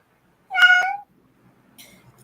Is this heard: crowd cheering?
no